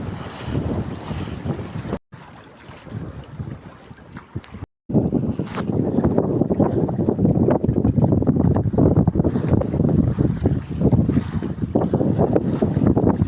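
Sailboat under way along the Brittany coast in rain, heavy wind buffeting the microphone with rushing water and hull noise, loud and continuous with two brief dropouts.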